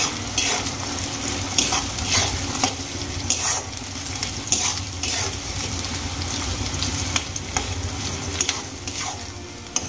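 Sliced onions fry in hot oil until brown, giving a steady sizzle with repeated scraping and stirring strokes of a utensil against the pan, close and fairly loud, with no talking.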